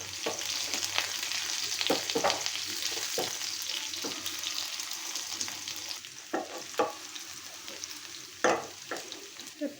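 Onion, chopped garlic and two dried chillies fry in oil, producing a continuous bright sizzle up close, punctuated by irregular scraping stirs and clacks of a spoon against the pan.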